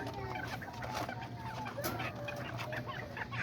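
A red rooster, part orange, clucks in short bursts at a backyard flock, fairly close but low in level, over a faint steady background hum.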